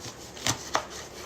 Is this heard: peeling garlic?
yes